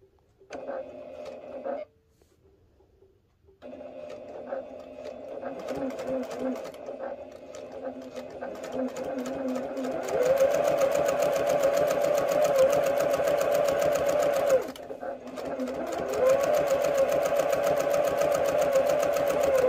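Sewing machine stitching at a short stitch length down the center line of a round tuffet panel, a close steady mechanical hum after a brief pause, growing louder and running continuously with a short break, while someone talks at times.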